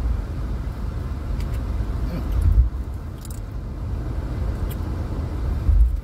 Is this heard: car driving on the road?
yes